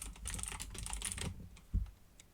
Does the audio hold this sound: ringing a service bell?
no